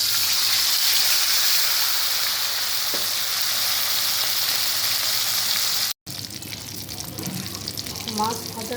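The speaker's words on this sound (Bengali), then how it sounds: "মাছ ভাজার জন্য একটা প্যানে আমি সরিষার তেল দিয়ে দিচ্ছি।" Fish frying in mustard oil in a pan, a loud continuous sizzle that breaks off briefly and resumes with louder crackling and a few utensil clatters.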